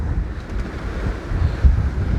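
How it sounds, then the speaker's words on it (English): Wind buffets a reefed sailing boat on passage from Dominica toward Guadeloupe while waves splash against the beam, giving a loud, rumbling low roar that swells in gusts and peaks in a heavier surge near the end. "Getting splashed on the beam."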